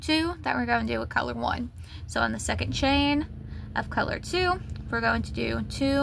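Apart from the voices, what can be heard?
None of the usual background noises is heard.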